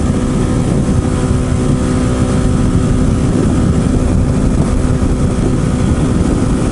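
RPS Hawk 250 motorcycle engine held at about 7,500 RPM while riding at 70 mph, a loud, steady droning roar with heavy wind rumble running unbroken throughout, no voices.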